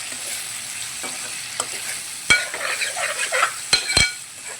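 Salt and turmeric stirred into a frying pan while cooking Andhra-style sambar, with a steady sizzle, soft scraping and a few sharp metal clinks of the spoon against the pan.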